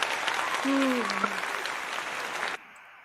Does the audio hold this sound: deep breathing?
no